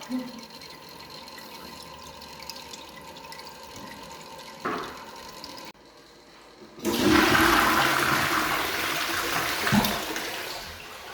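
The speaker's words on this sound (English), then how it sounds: "That flushed, everything, all the water went away." Newly plumbed toilet flushing after fitting the supply and waste pipes, a loud rushing swirl of water that starts abruptly mid-clip and drains steadily, preceded by a quiet room with a brief knock.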